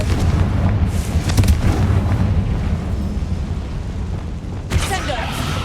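A Confringo spell in Hogwarts Legacy goes off as a loud, rumbling fiery blast with heavy low-end boom, followed by a sharper burst near the end, all continuous and close.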